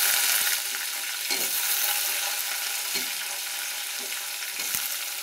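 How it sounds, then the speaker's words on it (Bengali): Potato pieces fry in hot oil with browned onions for a hilsa fish curry, giving a dense, steady close sizzle with occasional soft stirring knocks and no talking. "আলুগুলোকে আমি ভালো করে ভেজে দেব এই তেলের উপরে।"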